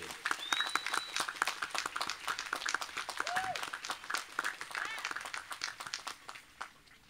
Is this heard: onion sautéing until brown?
no